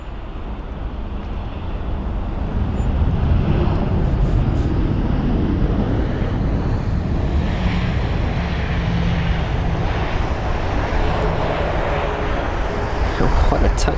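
An Airbus A318 touching down at London Heathrow, a broad rumbling jet roar that swells after the first second and holds steady, heard from a distance with background noise.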